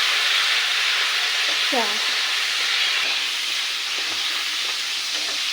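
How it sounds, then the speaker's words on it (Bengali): Cashews and raisins fry in hot oil for dum pulao, giving a loud, steady, continuous sizzle with faint clinks from a utensil. "আর এখানে তেলের ওপর কাজু কিশমিশ দিয়ে ফিরে নেওয়া হবে।"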